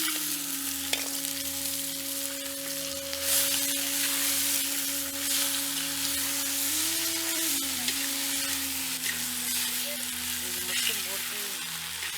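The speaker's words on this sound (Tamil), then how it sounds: "இப்ப உப்பு கண்ட கறியை சேர்த்து நல்லா வறுத்துக்கலாம்." Salted dried meat (uppu kandam) sizzles steadily as it is fried in a hot pan, a loud continuous crackle with a low hum underneath.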